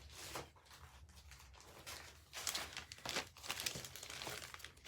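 Scrap paper crinkles and rustles as it is handled at a crafting table, with soft rustling throughout and a few sharper crumpling bursts toward the end.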